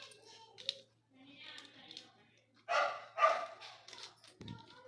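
A dog barks a few times at a moderate distance, in short bursts, with faint background talk and household sounds around it.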